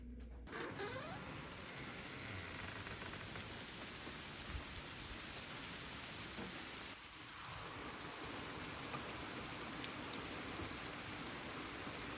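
Steady rain drums on and around a tiny cabin, with wind adding a broad rushing wash; the downpour is continuous and fairly loud throughout, with a brief dip and swell partway through and no talking.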